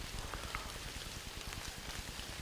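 Rain falling outdoors during an archery deer hunt in Pennsylvania, a steady pattering of drops with a soft hiss, continuous and moderately faint, with no talking.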